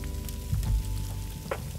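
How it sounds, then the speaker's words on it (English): Steak sizzling over a campfire in the survival game SCUM, a steady close crackling fry with small pops and a brief hiss swell, alone without talk. "Did you hear how the sizzling got really intense right there?"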